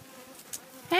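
Honey bees buzzing at a beehive during a bottom board check, a faint low hum that swells into a louder, closer buzz at the end.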